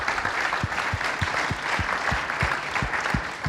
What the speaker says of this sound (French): Oui, tiens, applaudissons-nous